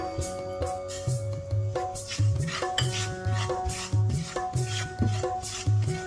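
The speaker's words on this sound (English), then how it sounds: "I will roast the sesame seeds." Sesame seeds dry-roasting in a pan while a utensil stirs and scrapes them, making a steady, repeated scraping rhythm of about one stroke every half second. The sound is close and moderately loud, with no talking.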